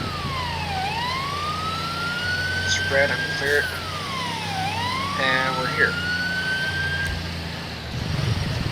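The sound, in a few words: emergency vehicle siren in video game FiveM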